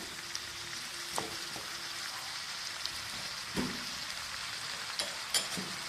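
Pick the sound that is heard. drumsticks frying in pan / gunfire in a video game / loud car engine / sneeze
drumsticks frying in pan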